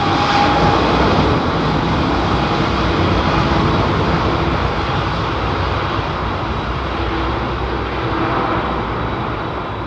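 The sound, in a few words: Airbus A330 jet departing Heathrow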